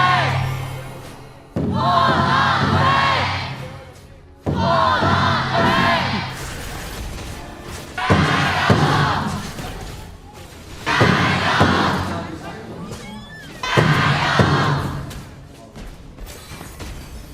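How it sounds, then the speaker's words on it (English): Fans in a packed esports arena at the KPL Grand Finals knockout stage roar and cheer in repeated loud surges, each swelling and fading over several seconds, with chanting voices and thumping noisemakers mixed into the crowd noise. "we will hear the fans cheer for them first"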